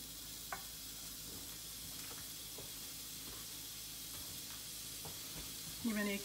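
Turkish Adana kebabs sizzling on an oiled grill, a steady close hiss with occasional pops and a brief louder flare near the end; a voice is faintly present.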